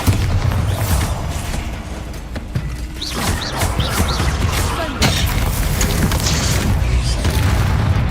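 Booming spell blasts and explosions from the Hogwarts Legacy video game hit loud and close in rapid succession, overlapping with crackling combat effects and a dense rumbling background.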